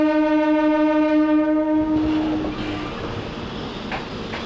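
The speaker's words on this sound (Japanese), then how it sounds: "始発の電車も動き始めた。" An early-morning first train's horn sounds a long, loud harmonic blast, then fades into the rumbling, clattering noise of the train getting underway, in the PS2 game Blood: The Last Vampire.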